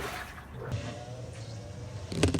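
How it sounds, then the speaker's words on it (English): A new washing machine fills with water on a test run inside a skoolie bus conversion, a steady close rush of inflowing water with faint clunks and a louder burst at the end. "Giving the new washing machine a test run."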